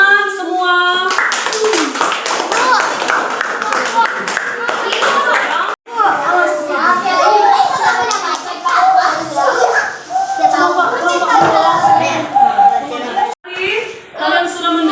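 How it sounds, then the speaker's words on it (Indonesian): Schoolchildren clap together in a classroom during a maths lesson, several rhythmic bursts of hand clapping mixed with lively children's voices and chatter, with brief pauses between the rounds. "Iya, tepuk tangan semua."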